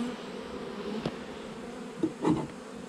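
Honey bees buzz steadily during a hive inspection while the bees are being brushed off, a close, continuous hum with a few brief bumps and knocks and no talking.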